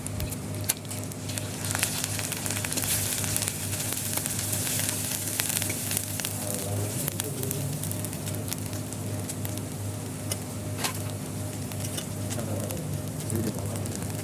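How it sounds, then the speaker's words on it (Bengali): Spices sizzle and fry steadily in a hot pan for a village-style pigeon curry, a continuous close crackle with occasional stirring scrapes and faint birdsong in the background. "মশলাগুলো এখন আমি ভালো করে কষিয়ে নেব।"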